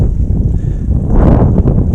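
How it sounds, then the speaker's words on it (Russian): Strong wind buffets the microphone on a frozen lake during winter pike fishing in frost, producing a loud, continuous low rumble that swells and gusts with no voices. "извините меня за плохой звук, за вот этот ветер"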